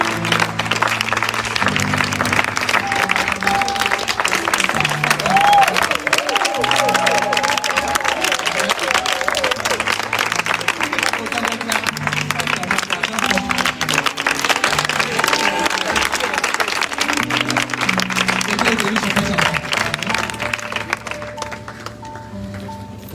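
A church congregation at a New Year's Eve vigil applauding and cheering, dense sustained clapping with voices and shouts from a large crowd, loud and unbroken before tapering slightly at the end.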